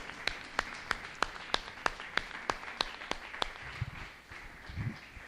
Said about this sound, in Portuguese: Uma salva de palmas ao Senhor, por favor.